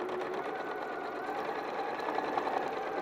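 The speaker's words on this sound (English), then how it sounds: "we're going to sew 1/2 inch all the way around" Sewing machine running steadily while stitching a half-inch seam around a striped bag, a continuous close mechanical whir with no talk.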